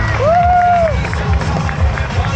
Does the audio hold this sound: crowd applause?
yes